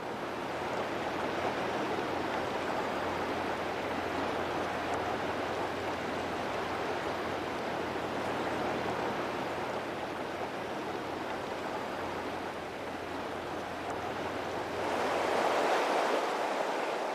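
The Dunajec river rushing through rapids, a steady, broad roar of flowing water that continues unbroken and swells slightly near the end.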